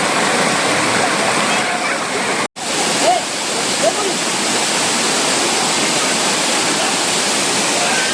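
A monsoon waterfall in Konkan, Ratnagiri, roars as a loud, dense, steady rush of falling water close by, with a brief dropout and faint voices barely above the torrent.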